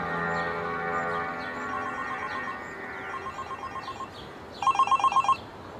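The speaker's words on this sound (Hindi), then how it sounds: "शंकर फोन कर रहा है सर" A telephone rings in a Hindi-dubbed Kannada action film, with repeated short electronic trill bursts over a soft musical background. The last burst of rings is louder and clearer.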